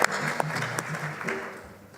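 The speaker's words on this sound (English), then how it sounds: "Let's give him all a round of applause." Plenary conference audience in Uganda applauds organizers, a short burst of clapping with faint voices underneath, tapering off.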